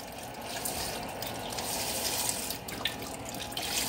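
A steady stream of chicken broth pours continuously into a pot, a full, even splashing wash with no talking.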